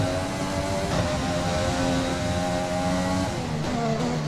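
A Formula 1 race car in the F1 2020 game drones at high revs on the Montreal circuit, its engine note holding steady and close with slight pitch shifts under light throttle, without speech.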